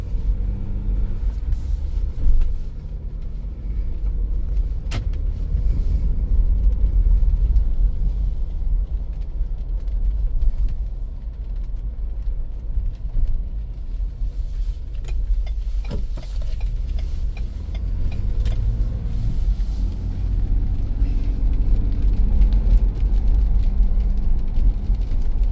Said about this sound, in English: we'll go ahead and take it for a quick spin around the block